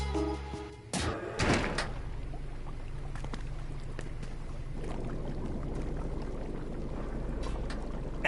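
A door in the video game Metal Gear Solid 2 opens with a sharp mechanical clunk and a brief sliding hiss, followed by a steady low ambient hum.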